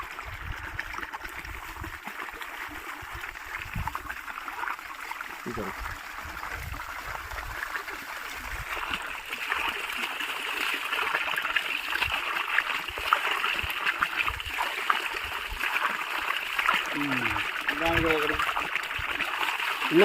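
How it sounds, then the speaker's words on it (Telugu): Water pours and splashes in a steady trickle while roots are washed, with people talking close by over it. "నీళ్ళు కడుగు, నీళ్ళు పోతాను."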